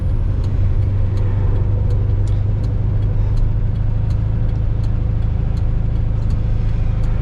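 A 1973 VW Super Beetle engine runs steadily close by, with a loud, even low drone and a faint regular ticking on top, no voices.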